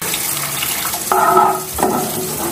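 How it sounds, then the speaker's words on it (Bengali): Water is poured into a pan of spiced curry for poached eggs, where the masala has already released its oil. A close, steady pour runs in two bursts with a faint sizzle underneath, and no one talks. "এবার দিয়ে দেবো জল।"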